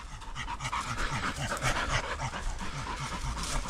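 A young dog pants steadily and rapidly, close by, with a fast rhythmic puffing that continues without a break.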